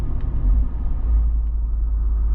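Deep low rumble of a lifted four-wheel-drive Jeep Wrangler 392 with a 500 hp V8, heard up close as it accelerates, a steady heavy drone throughout.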